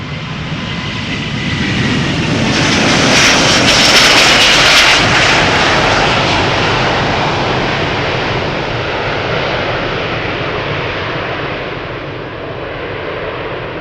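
A young airliner at Schiphol Airport passes close and loud, its jet roar swelling to a peak with a hissing whine and then easing into a steady, fading rumble.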